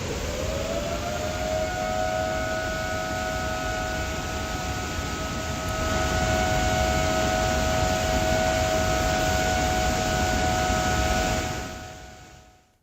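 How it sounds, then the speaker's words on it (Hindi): Salal Dam warning siren sounding before the floodgates open during heavy rain, one long steady wailing tone that holds loud and continuous before fading out at the end. "पहले सायरन बजता है और उसके बाद डैम के जो गेट हैं वो खोल दिए जाते हैं"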